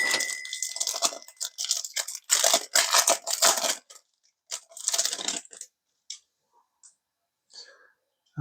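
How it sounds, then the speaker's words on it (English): Panini Prizm baseball card packs are torn open up close. Sharp crinkling foil and ripping bursts come in quick clusters, then trail off into a few sparse rustles and clicks. "Let's go ahead and open our packs."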